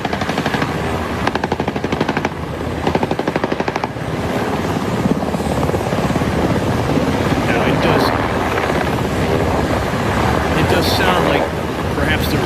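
A helicopter hovering overhead during a street disturbance in Minneapolis, giving a loud, steady rotor roar with rapid chopping pulses that fills the whole stretch, with wind buffeting and sharp cracks mixed in.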